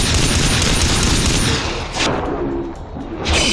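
Pistol fire in Far Cry 3 comes as a dense burst of gunfire through the first two seconds. A brief lull follows, then another loud crack near the end, up close and with no talk over it.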